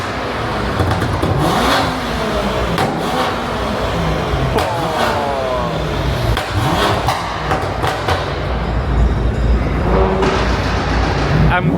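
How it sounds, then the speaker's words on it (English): Car engines rev at a busy car meet in Belgium, with broad rising and falling engine sweeps over steady crowd and traffic noise, and several revs cut through near and loud. "We're going to see if my old car wants to rev its engine."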